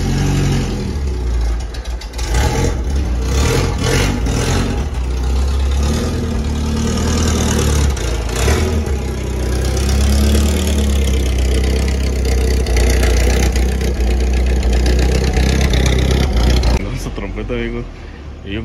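A car engine idles loudly and steadily at close range with a deep low rumble and occasional small revs, while someone talks over it throughout.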